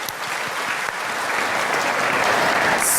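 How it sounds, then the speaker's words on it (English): Audience applause at a vegan event after a young people's performance, a dense steady wash of clapping that swells slightly louder over three seconds. "please give another round of applause for our young generation and their wonderful performance."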